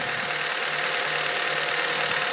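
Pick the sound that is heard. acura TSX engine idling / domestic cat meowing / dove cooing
acura TSX engine idling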